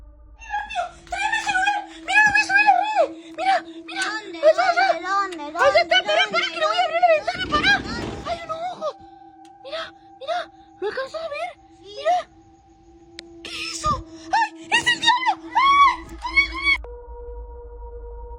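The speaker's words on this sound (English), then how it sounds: "she continuously screams in panic and fear before the video eventually ends abruptly" A woman screaming in panic and fear outdoors, with repeated high, wavering cries and whimpering bursts over a steady low drone, stopping abruptly at the end.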